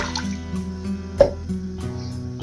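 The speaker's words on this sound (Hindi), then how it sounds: "उसमें पानी डाल लेंगे।" Water is poured into a cooking pot for yakhni pulao, with drips and splashes ringing over a steady hum of kitchen background sound.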